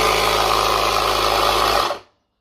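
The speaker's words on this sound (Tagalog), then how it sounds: "Ito yung compressor." A portable power generator's air compressor runs with a steady, loud mechanical drone and buzz, then cuts off abruptly into silence.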